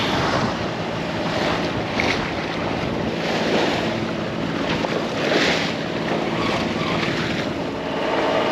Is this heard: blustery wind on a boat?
yes